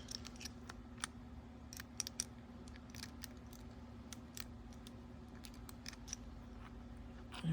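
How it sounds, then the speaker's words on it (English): A screwdriver taking a screw out of an ABUS 83AL/45 padlock, heard as sparse, sharp metallic clicks and scrapes over a steady low hum, close and fairly faint, with no voices. "And take the screw out. Hopefully the screwdriver will fit down there."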